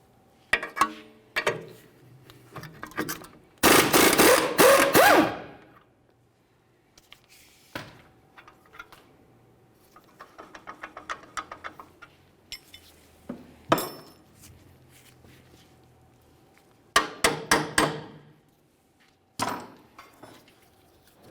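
Metal clinks and clanks as a wrench works a 21mm nut and bolt off the rear wheel hub of a 2002-2005 Ford Explorer, in short irregular bursts with quiet gaps and one longer, louder stretch of rattling.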